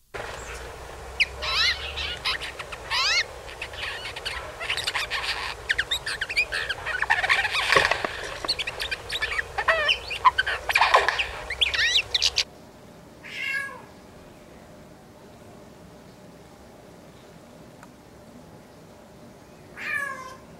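A Eurasian jay mimics a common buzzard and a cat, giving a busy stretch of rasping, mewing calls followed by a quieter pause broken by two brief mewing cries.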